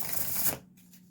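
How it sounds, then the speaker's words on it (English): Tarot cards being shuffled by hand, a dense papery riffling that runs loud for about half a second and then breaks off, leaving a couple of faint flicks. "I'm going to shuffle one more time because there was one of the cards from the other side"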